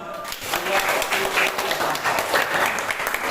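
Grade seven students in a classroom clap together for a classmate, a loud burst of many hands mixed with some chatter and a voice briefly speaking over it.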